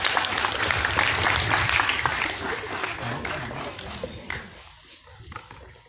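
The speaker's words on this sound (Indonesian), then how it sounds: "Beri tepuk tangan dulu" Steady applause from a group fills the room, then tapers off toward the end with a few scattered claps.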